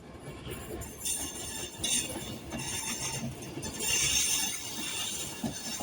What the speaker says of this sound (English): 39005 departing here from Glasgow Central to London Euston